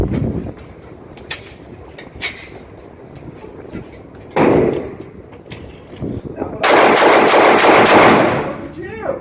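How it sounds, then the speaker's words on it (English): Handgun rapid fire at an outdoor shooting range during concealed-carry training: scattered sharp, loud shots early on, then a dense, sustained run of rapid reports toward the end. "When you're done with your 10 rounds, go ahead."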